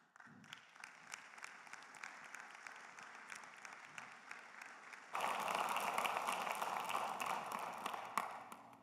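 An audience applauds veterans at a church Bible class, at first a scattered, moderate patter of clapping that suddenly swells into dense, fuller applause halfway through and carries on to the end.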